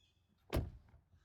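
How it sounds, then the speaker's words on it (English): A Tesla Model Y door swings shut in a single muffled thud with a short rattle afterward, close by and alone, set against a quiet background. "Let's close the door."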